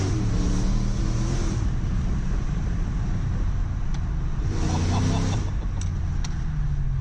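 A car drives steadily with continuous engine and road noise, rising slightly as it accelerates, heard from inside, with no clear voices over it.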